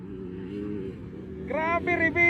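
Racing motorcycles roar past at a track, engines droning low, then a rising high-pitched whine as bikes scream closer near the end, under excited commentary.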